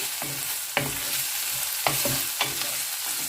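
Pork browns in a hot pan with a steady close sizzle, broken by a few sharp scrapes and clacks of a spatula stirring the meat at irregular intervals, with no talking.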